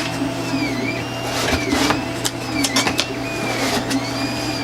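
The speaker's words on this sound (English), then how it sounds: "I've got the Ender 3 running next to me doing a print that has probably another 5-6 hours to go" A Creality Ender 3 3D printer runs a long print nearby, its stepper motors whining in rising and falling sweeps over a steady fan hum, with occasional short bursts of movement and no talk.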